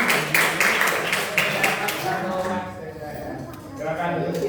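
A classroom of students gives group four a round of applause, a dense burst of clapping that fades out about halfway through and leaves quiet room noise with faint talk.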